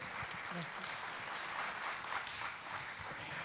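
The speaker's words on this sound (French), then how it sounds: "On peut vous applaudir." Applause from a studio or conference audience after a discussion, a quiet, continuous spread of clapping that stays even throughout, heard faintly and at some distance.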